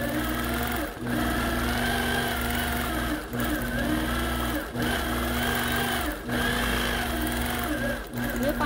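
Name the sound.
quilting sewing machine stitching a curlicue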